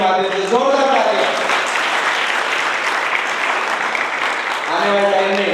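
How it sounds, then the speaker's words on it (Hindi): Award ceremony audience giving loud, sustained applause, a thick continuous roar of clapping hands, with a voice heard briefly at the start and end. "जोरदार तालियां।"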